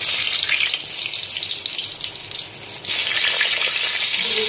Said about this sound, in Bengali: কড়াইতে একটু তেল দিচ্ছি, বেগুনগুলোকে আমি গোটা ফ্রাই করে দেবো